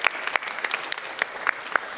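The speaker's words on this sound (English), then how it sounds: "a big round of applause" Audience applause at an Alzheimer's and dementia awareness event at a state Capitol: a moderate round of clapping with scattered sharp individual claps standing out over a steady patter.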